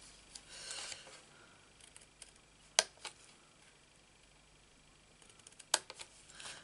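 Cutting a piece of material for a Christmas train model's undercarriage, heard as two sharp, close snips or clicks a few seconds apart over a faint hiss and soft handling noises.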